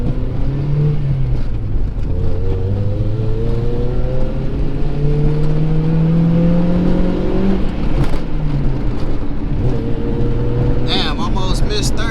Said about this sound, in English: give y'all a little pull action